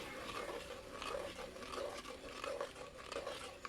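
Ragi porridge stirred in a pot, a continuous thick, rhythmic scraping and churning of a spoon through the dense mixture, close and fairly quiet.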